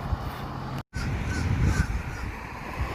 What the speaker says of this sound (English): Interesting sounding birds.